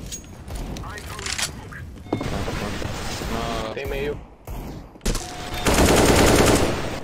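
Bursts of gunfire in a first-person shooter crackle loudly and almost continuously, with voices talking over the shooting.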